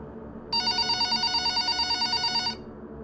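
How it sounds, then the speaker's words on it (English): A landline telephone in a dorm room at night rings with a bright electronic trill, one steady two-second burst pulsing rapidly, loud and alone over faint background hiss. "My dorm phone, it was a landline, only Zach Morris carried a cell phone in 2001, rings in the middle of the night."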